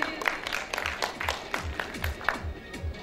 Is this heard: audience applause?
yes